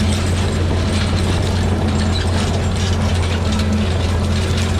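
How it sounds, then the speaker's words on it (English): Steady metallic jingling and ratcheting clatter from the closers of an anhydrous ammonia applicator working through grassy soil, continuous and loud, with a low mechanical drone underneath. "But you got to get past the metallic sound of the closers and all that jingle jangle"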